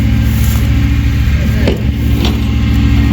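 A rollback truck's engine hums steadily up close as the truck creeps forward, a low idle-like drone with faint mechanical knocks, no one speaking over it.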